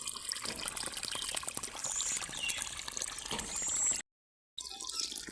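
Water runs and trickles outdoors while plants are being watered, a steady close splashing with a few dripping accents and a short dropout near the end.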